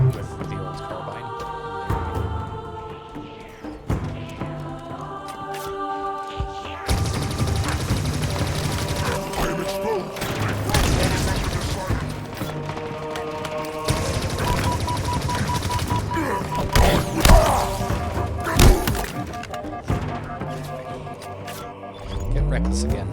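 Rapid gunfire from a weapon in the Halo Infinite campaign, with repeated bursts and a sustained string of shots growing denser and louder partway through, mixed with game effects and a voice talking over it.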